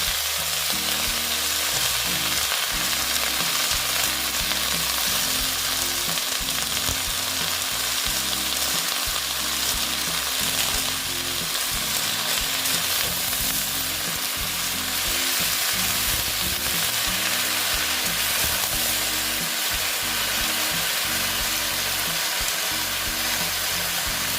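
Washed kolmi greens fry in a pan with a loud, dense, continuous sizzle close up, broken by occasional stirring scrapes underneath the steady crackle.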